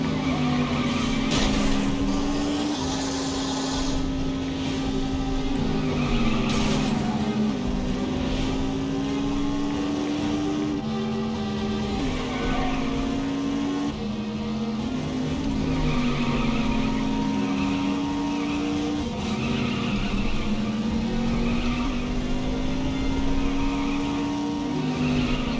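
A car in the video game The Saboteur squeals through handbrake turns, tire skids wavering over a steady engine drone, long and continuous with pitch shifts as the vehicle slides.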